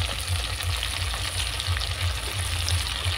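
Spices with salt, turmeric, red chilli and coriander powder frying with tomato in a pan, a steady close sizzle with soft stirring scrapes throughout, no voices.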